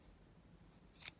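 A single quiet snip of scissors cutting dried sunflower material, one brief crisp cut standing out against near silence.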